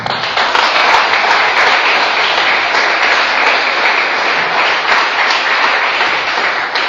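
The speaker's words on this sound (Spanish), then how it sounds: "Denle un fuerte aplauso al Señor." A church congregation applauds loudly and steadily at an evening service, a dense continuous wash of clapping that fills the whole stretch without speech.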